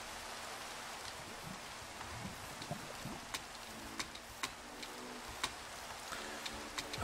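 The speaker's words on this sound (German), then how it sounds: "Oh, dieser Regen." Rain falls in a steampunk video game as a steady soft hiss, with faint scattered ticks of drops striking a surface.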